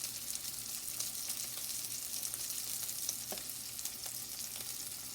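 Keto, gluten-free waffle batter sizzling in a small waffle iron sprayed with cooking spray: a steady, faint, crackling hiss that runs throughout with tiny pops.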